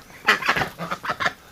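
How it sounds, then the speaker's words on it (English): A duck in a pen gives a short run of loud, close, raspy calls, several rapid honking quacks over about a second and a half, with no speech. "Marble Duck is back in here"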